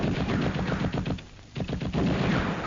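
Gunfire from a sniper in a jungle patrol setting, a harsh burst of repeated shots with echoing reports, loud and dense, with no talk over it.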